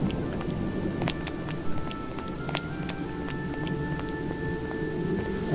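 Rain falls steadily in the adventure game Adam's Venture: Origins, a constant even patter with faint drips and a low steady tone, with no talking.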